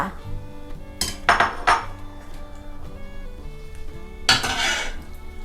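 Grilled intestines being mixed with sauce in a bowl, scraping and clinking of utensils against the dish in a few loud bursts over a quiet background.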